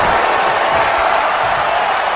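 A wrestling video game arena crowd roars and cheers in a dense, steady wash of noise, loud and continuous with no pauses.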